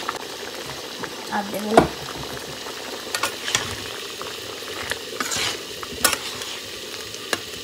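Fried lentil fritters (bora) going into a simmering curry, with bubbling, sizzling and stirring and scraping sounds throughout. A voice speaks briefly.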